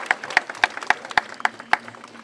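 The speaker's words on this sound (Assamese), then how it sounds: "সকলোকে হাত চাপৰি দিবলৈ অনুৰোধ জনাইছো।" Sparse audience clapping at a public event in Bhergaon, Udalguri, a string of distinct, evenly spaced claps standing out over a quiet background.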